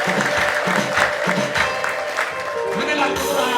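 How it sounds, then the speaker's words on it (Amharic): A church congregation claps for the Lord in steady rhythmic beats, with a voice speaking loudly over the clapping throughout. "አጨብጭቡ ለጌታ።"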